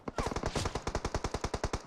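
Automatic gunfire in a battle royale video game rattles out as a close, loud string of rapid evenly spaced shots, about fifteen in quick succession.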